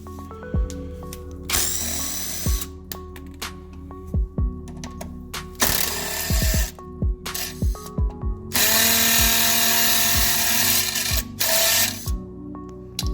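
Power wrench or drill loosening bolts on a vehicle while step-up bars are swapped, heard in several loud whirring bursts of a few seconds each, separated by clicks and handling clatter.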